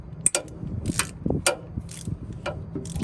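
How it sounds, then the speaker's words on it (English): A socket with a universal joint clicks and ratchets in short, close metallic bursts while loosening the coolant drain on the driver's side of a 2UZ-FE engine block in a Land Cruiser or LX470, with no talking. "So I'm gonna crack that loose, and we're gonna drain some of the coolant out on the driver's side of the block."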